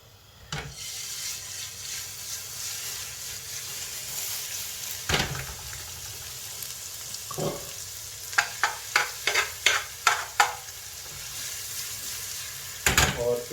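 Ginger and garlic paste fries in a pot while cooking chicken broth, a low steady sizzle broken by sharp scraping and clinking stirs, with a quick run of spoon taps near the end.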